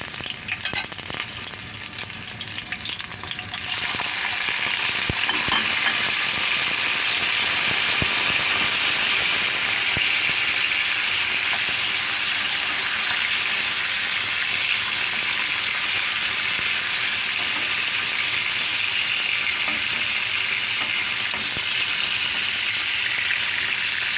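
Onions frying alone in a pan for tomato and eggs, a steady loud sizzle that swells after the first few seconds and holds evenly with a faint hiss throughout.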